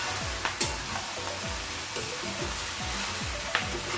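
Bombay duck shutki frying with onions in a pan over high flame, a busy continuous sizzle broken by repeated scraping strokes of a spatula, close up with no voices.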